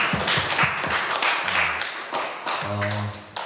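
A youth church congregation claps for its graduates, a quick patter of close hand claps early on that fades as a voice speaks over the end.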